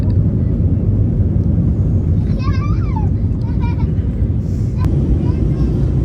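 An airliner climbing and banking after takeoff over Colombo fills the cabin with a loud, steady broadband roar, while a voice and brief tones rise faintly above it.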